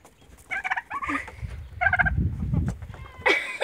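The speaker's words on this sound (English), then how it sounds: "Did the turkey even eat it?" Farmyard turkeys gobble in rapid warbling bursts, several calls close by, over low rustling and movement as they peck at cranberries alongside chickens.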